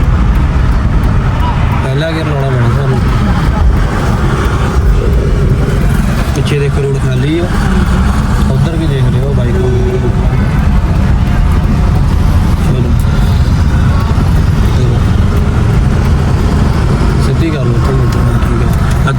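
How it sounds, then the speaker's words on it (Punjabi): A car engine runs steadily during a driving lesson, a continuous road and engine rumble from inside the moving car while an instructor and learner talk over it. "ਸ਼ੁਰੂ ਕਰ ਲਿਓ ਗੱਡੀ"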